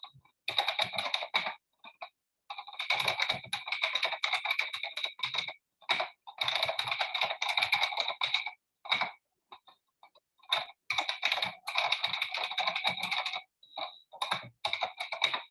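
Someone types a single line of Flask code on a computer keyboard in short rapid bursts, with brief pauses between them. The key clicks are crisp and close.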